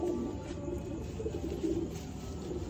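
A pigeon loft carries low, soft cooing from perched pigeons, faint warbling calls repeating over a steady quiet background hum.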